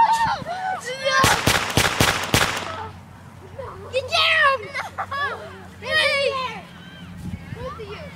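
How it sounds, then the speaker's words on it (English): A quick burst of five or six sharp gunshot-like bangs in a mock battle among sixth graders. Children's voices shout around and between the shots. "They're firing!"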